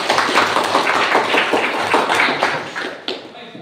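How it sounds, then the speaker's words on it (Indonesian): A classroom of children clapping together in a dense, fast patter of many hands, loud and close, fading out toward the end. "Oke, 100 tepuk tangan dulu"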